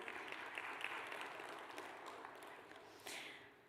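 Audience applause at the Indo-French Investment Conclave in Hyderabad, a steady wash of clapping from a seated crowd that holds fairly even, thins slightly, then swells briefly near the end.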